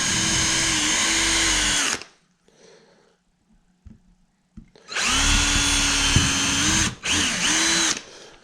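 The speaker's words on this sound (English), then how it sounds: "I'm going to drill a few holes, pilot holes." A power drill bores pilot holes into a willow hoop in two loud, whining bursts of about two and three seconds, separated by quiet handling and small knocks, and the second burst briefly cuts out and restarts.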